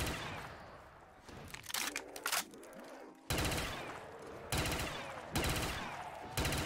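Rapid bursts of AK assault rifle fire in Black Ops 3 Zombies, several loud close-range volleys broken by short pauses, with scattered clicks and mechanical game sounds between them.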